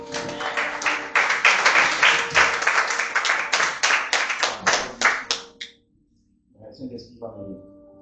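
A church congregation claps during a service, a dense, fairly close round of applause with rhythmic beats that stops abruptly, followed by a brief pause and a voice speaking.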